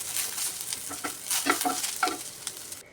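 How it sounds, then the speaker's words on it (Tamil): Onions frying in oil in a pan for mint chutney, a soft steady sizzle with a few stirring scrapes and clicks, close and with no talking. "நல்லா ஃப்ரை பண்ணி எடுத்து வச்சுக்கலாம்."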